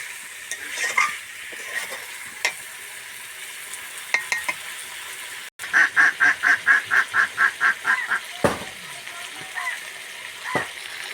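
Chicken being sautéed and stirred in a frying pan, steady sizzle broken by a run of rhythmic scraping strokes of a spatula and a few sharp knocks against the pan, close and fairly loud.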